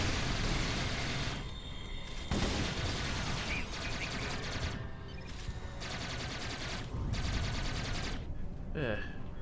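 Gunfire in a video game, rapid automatic bursts repeating in several volleys of a second or so each, over a dense, noisy background, with someone talking through it.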